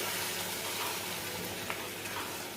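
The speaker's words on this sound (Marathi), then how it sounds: "बघा गरम पाणी टाकल्यामुळे लगेचच आपलं पाण्याला ह्या उकळी पण आलेली आहे." Hot water poured into sizzling mutton curry hisses and crackles steadily, a dense close-up frying sizzle with faint bubbling as it comes to a boil.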